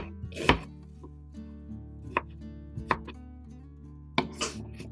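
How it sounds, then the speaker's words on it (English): A knife slices through vegetables on a cutting board, giving four separate sharp chops spaced about a second apart over a steady low hum. "Cut them into thin slices."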